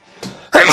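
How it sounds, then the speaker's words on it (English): A person sneezes once, a brief breathy intake followed by a loud, sharp burst that fades out at the end of the moment. "Oh, I'm going to sneeze."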